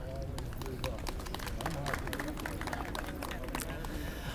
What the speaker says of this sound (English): They get claps too